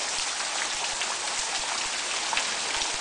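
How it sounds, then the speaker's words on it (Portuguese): Water seeping and dripping down a cliff face on the Sussuapara trail in Jalapão, Brazil: a dense, steady patter of many close drops hitting the surface, rain-like and continuous, with no talking. "Água minando lá de cima."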